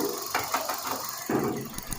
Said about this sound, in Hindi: गाड़ी जो है वो स्टार्ट की है